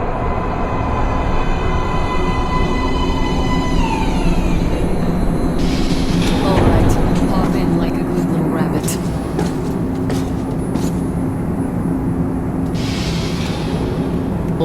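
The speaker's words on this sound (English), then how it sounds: "Train coming in." A metro train pulls into an underground station platform in the video game Metro Last Light, a loud, continuous rumble with rising metallic squeals and hissing brakes that builds and swells over the whole stretch.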